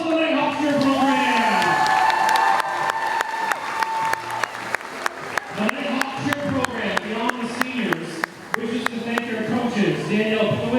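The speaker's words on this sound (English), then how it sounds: "Round of applause for the Nighthawk Cheer program." A gym crowd at a high school basketball senior night claps and cheers for the cheer squad, a dense sustained roar of applause and shouts with sharp rhythmic claps or stomps cutting through, loud and close.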